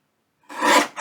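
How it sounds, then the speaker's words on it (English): A small paper guillotine slices through an acetate pocket in one short, close rasping cut, with no talk. "I'm going to bring in my little guillotine and I'm just going to trim that off."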